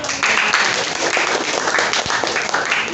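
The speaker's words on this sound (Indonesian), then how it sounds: "Tepuk tangan dong." Classroom of Indonesian seventh-grade students clapping after a civics quiz answer, steady mixed applause filling the whole moment at close range, with a little chatter underneath.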